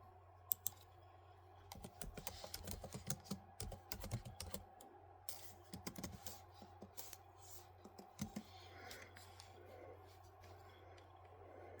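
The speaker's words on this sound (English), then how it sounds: "I'm just clicking on some map." Computer mouse and keyboard clicks while navigating an online map, a quick irregular run of light close taps and clicks over a low steady hum, busier in the first half and sparser later.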